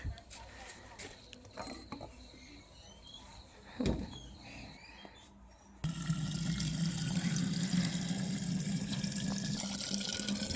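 Water filling drinking bottles for pet rats: clinks and handling noises first, then a steady, close rush of flowing water that continues to the end.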